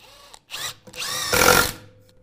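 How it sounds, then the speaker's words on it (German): Bosch GDS 18V-450 HC cordless impact wrench driving 6x60 screws into a wooden beam, heard as two close, loud bursts of motor whine, the second one longer and rougher as the impact action kicks in. "ich habe jetzt hier 6x60er Schrauben und verschraube die hier einfach mal in den Balken zum Vorführen"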